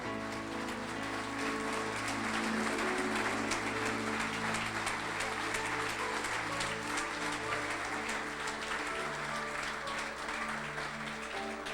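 Steady congregational applause at a church men's worship service, a dense, continuous patter of many hands filling the room for the whole stretch, with a low sustained tone beneath it.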